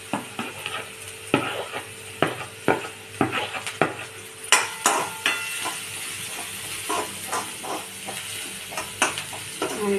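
Onions sizzle in a pan as turmeric is added, and a spoon scrapes and stirs in a steady rhythm of sharp knocks over a continuous frying hiss, close and clear.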